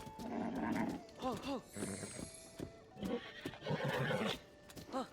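Horse neighing in The Legend of Zelda: Tears of the Kingdom, several close whinnies with rising and falling pitch sweeps over light game sounds, with a person talking in between.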